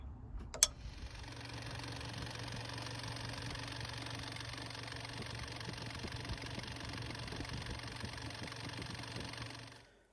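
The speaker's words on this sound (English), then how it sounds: "engine's running, seems slightly noisy" A Mitsubishi L200 engine idles steadily after a head gasket repair, with a faint mechanical ticking, preceded by a brief click near the start and fading out at the end.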